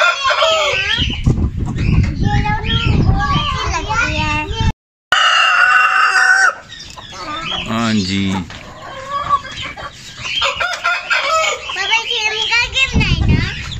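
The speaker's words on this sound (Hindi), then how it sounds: "ये सील मुर्गा है ना।" An Aseel rooster clucks and lets out a crow while several people talk loudly nearby, the bird calls rising above and between the voices.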